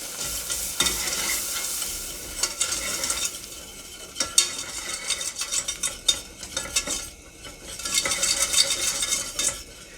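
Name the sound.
whisking flour into melted butter in a pan for lobster soup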